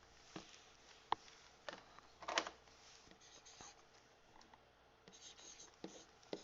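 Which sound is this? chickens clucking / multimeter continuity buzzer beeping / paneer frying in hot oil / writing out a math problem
writing out a math problem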